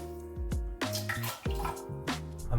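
Filtered water is poured for pizza dough, 420 grams in all, in uneven close splashes and gurgles with a few drips in between and no voices.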